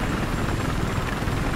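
Continuous, loud helicopter engine and rotor drone from the video game Battlefield 4, a dense steady roar with deep low rumble and no pauses.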